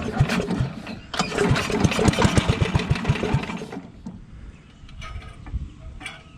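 Old WWII aircraft generator welding machine engine cranks and catches, sputtering in a rapid, uneven rhythm for a few seconds before faltering and dying down, close and loud with no talk.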